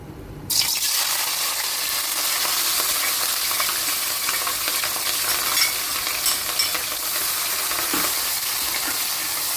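Chopped onions and green chilies dropped into hot oil for an Andhra goat mutton curry, a sudden loud sizzle that bursts in and holds steady and close, with faint stirring and no talk.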